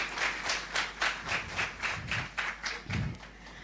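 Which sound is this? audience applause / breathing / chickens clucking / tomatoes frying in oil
audience applause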